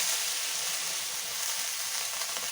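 Chopped onion and green chili sizzle steadily in a hot pan as spinach is readied for a stir fry, a dense close frying hiss with no voices.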